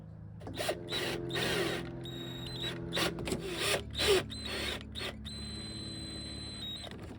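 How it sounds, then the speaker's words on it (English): Screws being driven to mount an aftermarket double-DIN stereo in a Honda Element, giving repeated short bursts of mechanical whirring and clicking with brief pauses, fairly close and moderately loud. "And now I'm gonna use the screws that they gave us to put it in."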